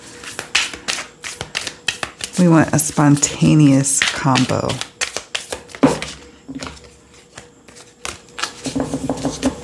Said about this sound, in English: So now let's shuffle them up.